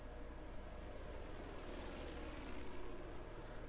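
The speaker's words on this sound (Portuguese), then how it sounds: "Cara, eu odeio esses malucos de avião" Enemy airplane in the video game Far Cry 5 drones overhead, a steady, faint, broad engine roar that swells slightly, heard alone with no talk.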